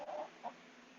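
A chicken clucks nearby in a quiet indoor yoga setting, two short soft clucks over a faint steady background hum, no talking.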